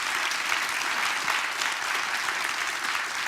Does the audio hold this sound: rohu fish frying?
no